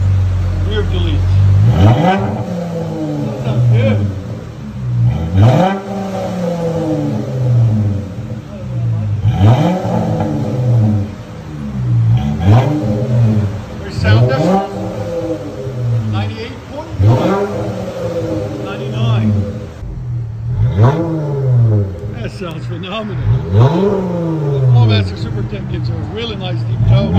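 A V6 Dodge Challenger/Charger with Flowmaster Super 10 mufflers, a rear resonator delete and factory tips revs repeatedly close by. Each rev swells to a loud, deep growl and falls back every couple of seconds.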